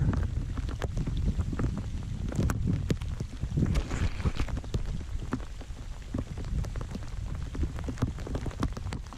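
Steady rain patters on surfaces outdoors at a pond, dense and close, with gusts of wind buffeting the microphone throughout.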